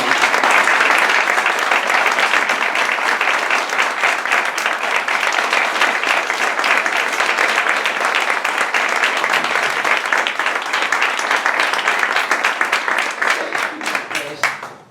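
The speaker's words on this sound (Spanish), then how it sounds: "Un fuerte aplauso para ella." An audience at a book launch for the anthology "Esencias de un homenaje" gives author Clementa López long, loud, even applause lasting nearly fifteen seconds before fading at the very end.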